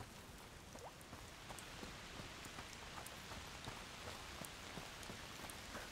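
Steady foul rain pours in A Plague Tale: Requiem, a dense continuous hiss of drops spattering on surfaces, with scattered sharper droplet hits throughout and no voices.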